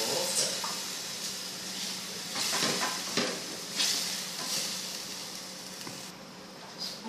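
Cooked meat sauce poured into a hot pan with browned stuffed beef, hissing and sizzling in bursts with stirring clatter, while a person talks over it.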